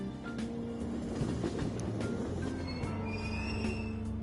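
A video game train pulls away from a station platform, a low rumbling hum with faint wheel squeal and rattling hiss, steady and moderately quiet throughout.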